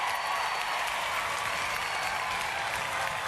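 Studio audience at a Robot Wars arena applauding, a dense, steady wash of clapping and cheering that holds evenly throughout with no voices on top.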